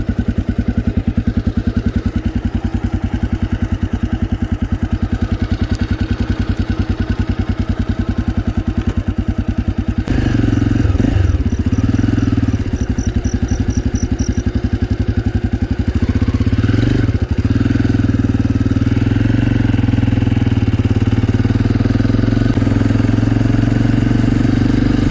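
A Honda AX1 250cc supermoto runs in second gear around 3,000 RPM, its single-cylinder engine thrumming loudly and steadily up close while riding, with wind buffeting and clattering growing more prominent midway.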